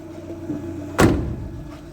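A 1997 Renault Twingo's long door shuts with a single solid thump and a short metallic rattle, heard close up in a workplace parking lot at evening.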